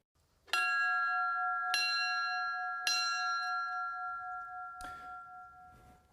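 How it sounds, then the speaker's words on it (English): A single bell tolls at a funeral before thousands of mourners, striking three times at a slow, steady pace, each toll ringing on and fading, followed by a couple of softer knocks; no voices. "A bell tolling in front of thousands saying their goodbyes"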